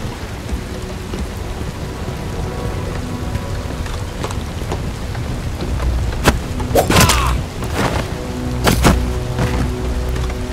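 Steady rain pattering in the video game Bright Memory: Infinite, with sharp thunder cracks and rumbles breaking through near the end, and no talking.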